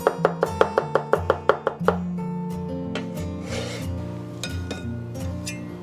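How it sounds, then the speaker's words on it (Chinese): A knife chops sliced carrot into thin strips on a board, about nine crisp, evenly spaced strikes close up, after which music carries on with no further cutting. "然后改刀切丝"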